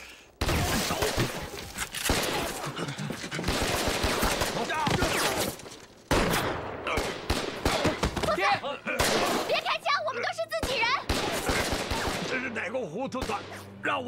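Dense volleys of rifle and machine-gun fire from a battle scene in a Chinese anti-Japanese war drama, with loud, rapid, overlapping shots over about fourteen seconds, mixed with shouting voices and thuds.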